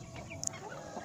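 Joper laying hens in their coop give soft, faint clucks with a couple of brief sharp notes, heard close over a quiet background.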